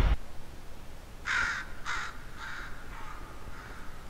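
In the video game Thinking With Time Machine, a crow gives four loud, harsh caws in an even rhythm. The calls are spaced about half a second apart and weaken slightly with each one.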